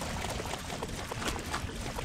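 Water sloshing and splashing as a character wades through water in the BloodRayne video game, a steady broadband wash with small bursts, moderately loud and continuous with no talk.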